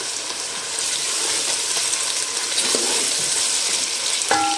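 Onions frying in oil for a chicken and egg curry gravy, giving a steady, close broadband sizzle that holds through the whole stretch, with a brief scrape or clink near the end.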